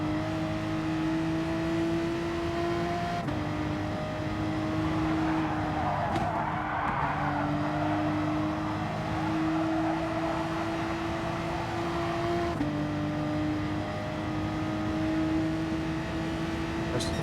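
A Porsche race car in Gran Turismo Sport screams along with a steady high engine whine, broken by quick gear-shift dips, while faint tire squeal and another car's engine swell past in the middle of the run.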